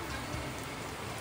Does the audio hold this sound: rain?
yes